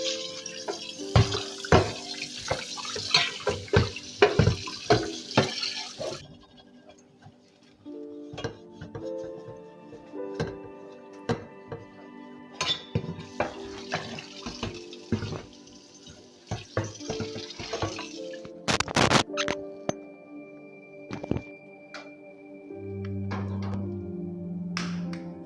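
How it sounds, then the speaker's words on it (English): Frying pan being washed under a running kitchen tap, with water flowing in bursts, splashing and clattering of the pan, close by, with occasional faint talk. "It's now time to wash the frying pan that I will use for frying."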